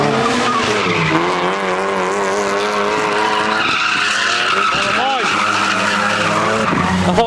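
A BMW E46 race car at Crail Raceway skids with loud, wavering tire squeal over a continuous roaring engine. Voices talk over the noise throughout.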